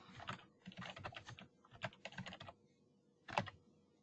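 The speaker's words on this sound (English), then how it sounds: "I can type out my copy" Keys clatter on a computer keyboard in quick irregular bursts, with short pauses between runs of typing and one sharper keystroke near the end, close and fairly quiet with no voices.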